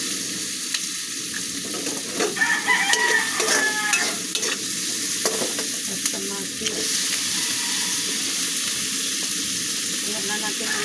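Garlic sizzles in hot oil in a pan while a kaldereta lunch is cooked, a steady close hiss broken by clattering bursts of stirring, with faint voices now and then.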